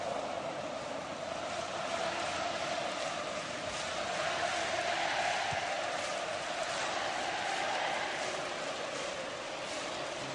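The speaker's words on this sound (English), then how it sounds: "you thought the crowd was loud before. Hear them now" A stadium crowd roars continuously at the Brazil vs Argentina Copa America semifinal, a dense, steady wash of massed voices that stays loud and even throughout.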